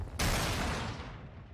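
Enemy gunfire in the Modern Warfare 2 campaign, a sudden loud burst of shots that erupts into a dense, noisy volley and slowly decays over about a second and a half.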